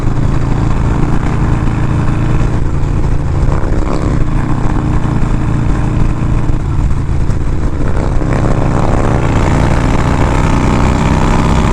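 A 1987 hot-rodded Harley FXR motorcycle engine drones steadily and loudly while riding down a highway, with a constant low rumble and wind noise throughout and no breaks.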